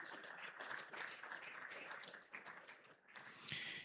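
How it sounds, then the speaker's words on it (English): Audience at the NIES 2026 official opening ceremony applauding President Adama Barrow of the Gambia, faint, distant clapping that wavers and dips briefly before swelling again near the end. "Please, another resounding applause for His Excellency."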